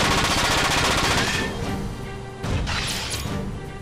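Dense rapid gunfire from a Front Mission 4 battle, loud continuous bursts of shots with crashing impacts that ease slightly, then a second heavy burst, no talking.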